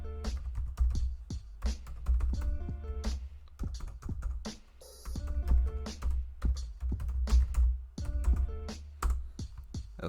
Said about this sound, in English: we have to type sudo and then the whole command again